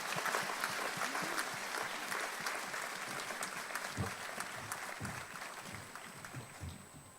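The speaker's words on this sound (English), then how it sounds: "Ladies and gentlemen, a round of applause." Sustained audience applause at a conference opening ceremony, a thick continuous wash of clapping with a few nearby individual claps standing out and the applause easing off toward the end.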